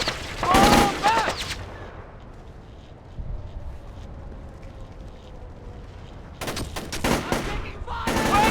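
Automatic gunfire in the stealth shooter Splinter Cell: Chaos Theory comes in loud, rapid bursts at the start and again near the end, with quieter ambience between and shouting voices mixed in.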